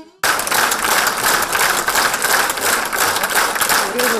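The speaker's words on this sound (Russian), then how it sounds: "Его игру и весь концерт публика оценила бурными аплодисментами." A concert audience breaks into dense, sustained applause after an orchestra performance. The clapping is loud and steady, fills the whole stretch from just after the start, and has no pauses.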